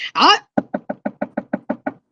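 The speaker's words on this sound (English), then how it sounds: "Did you knock on the window?" A brief voice, then about nine crisp, evenly spaced knocks on a window, loud and close, each a short dull rap in a steady rhythm.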